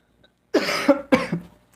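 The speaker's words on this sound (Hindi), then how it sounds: "खांसी बहुत ज़्यादा आ रही है" Two harsh human coughs in quick succession, close and loud, followed by a brief throaty catch, with near silence before and after.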